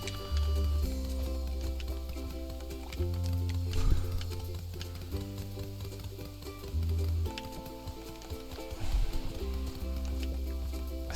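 Ingredients are chopped in the video game Overcooked, with quick cutting clicks over a looping, plodding in-game music bed at moderate volume.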